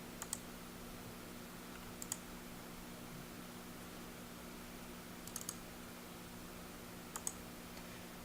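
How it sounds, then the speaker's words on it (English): Sparse mouse clicks while editing a website: four short, crisp taps spread a couple of seconds apart over a steady low electrical hum, with no talking. "we can just go ahead and click on that image"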